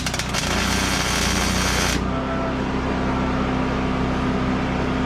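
Tack welding on the axle of a 1987 Toyota 4Runner in a garage: a loud, dense crackling buzz of the arc that cuts off sharply after two seconds, leaving a steady hum behind.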